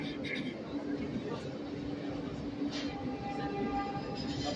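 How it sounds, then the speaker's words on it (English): Train number 9610 rolling backwards along the track, a continuous low rumble with faint squeals and a thin tonal whine, heard from close by. "Now the train's going backwards."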